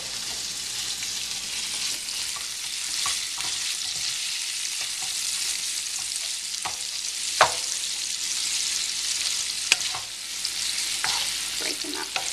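Stuffed-pepper filling sizzles steadily in a hot pan while a utensil stirs and breaks it up, sending occasional sharp scrapes and clicks over the constant close frying.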